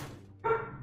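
A single loud bark from a dog close by indoors bursts in abruptly after a near-silent moment.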